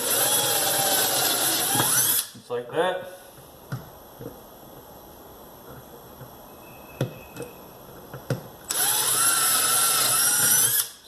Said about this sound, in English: We're going to drill through all the way on our first cut.